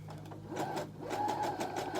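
A sewing machine stitching faux fur and elastic, a quiet rapid mechanical whir in short bursts, close by and alone.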